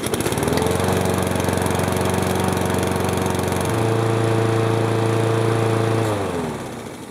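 A small gasoline engine runs steadily at a constant drone while warming up, then its pitch shifts partway through before it winds down near the end.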